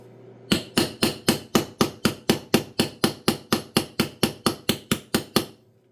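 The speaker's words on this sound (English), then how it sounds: "Now when I hammer it, I like to kind of give it a roll as I'm hammering it" Rapid, evenly spaced hammer blows ring out, about twenty sharp strikes in a steady rhythm, close and alone.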